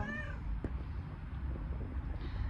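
A cat meows indoors in a home, a short harmonic call at the start followed by a quieter one near the end, over steady low background noise with no talking.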